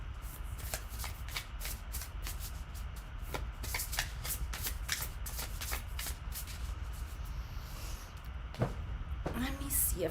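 Tarot cards are shuffled by hand in a quiet room, a rapid series of crisp riffling flicks and soft slaps repeating over a low background hum, with a voice speaking briefly.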